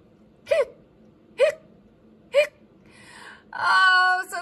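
A voice imitates a howler monkey's hiccups with three short, evenly spaced hics, followed by a drawn-out vocal groan.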